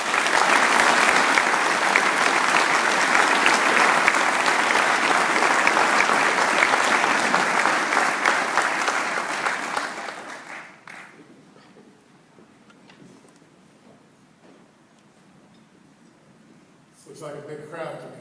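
An audience applauds loudly to welcome a man named Bill Stone home at an Evansville workforce event, the dense clapping sustained for about ten seconds before fading, then a brief burst of sound near the end.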